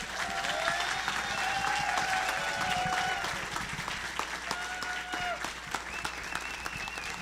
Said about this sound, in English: Can we give him another round of applause for graduating college?